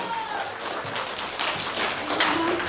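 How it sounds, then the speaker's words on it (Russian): Audience applause at a Podolsk community concert, a dense patter of many hands clapping steadily at moderate volume, with some background noise mixed in. "Под ваши аплодисменты."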